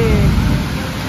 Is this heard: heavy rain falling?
yes